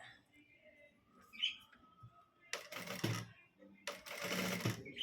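A sewing machine stitching a blouse runs in two short, fast-clattering bursts, close and fairly loud, between quieter stretches of faint background chirps and handling sounds.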